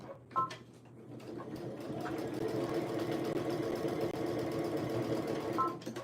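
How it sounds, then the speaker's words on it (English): A home sewing machine hums steadily as it runs a stitching and back-stitching pass, a continuous close motor drone with faint tapping at the start and end. "bring the sewing machine a little bit closer. And all I generally do is I'll get it started, I'll back stitch some."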